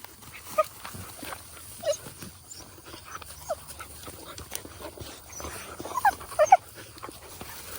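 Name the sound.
farm dogs barking and whimpering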